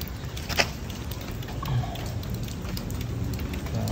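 Steady rain falls outdoors by a young planted tree in Davao City, a dense continuous patter with one sharper spatter early on, moderately loud and without voices.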